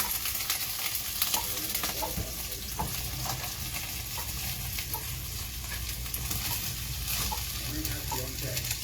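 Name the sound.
cabbage stir-frying with garlic and ginger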